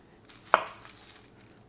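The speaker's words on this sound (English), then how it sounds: "So we'll start with just chopping whatever we need to chop." Ingredients for arayes are chopped on a board: one crisp knife strike stands out, followed by a few softer faint cuts in a quiet kitchen.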